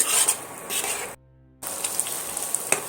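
Spices and yogurt for chicken kosha fry in oil, producing a dense, close crackling sizzle that briefly cuts out to near silence before resuming.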